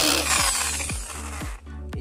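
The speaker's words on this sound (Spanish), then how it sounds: "se lo de atornillar con el taladro" A power drill whirs in several short bursts, screwing into recycled pallet wood while building a dog house, with squeaky rising pitch sweeps as each screw bites, close by.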